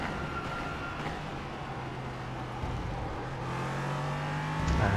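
LMP3 race car engine revving and accelerating at the Hungaroring in iRacing, a steady droning motor tone that holds, then climbs in pitch toward the end, heard from inside the car at moderate level.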